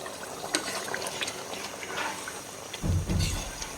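Chicken curry in a roasted-coconut gravy boils in a pot, giving a steady bubbling simmer with a louder, deeper burst of bubbling near the end.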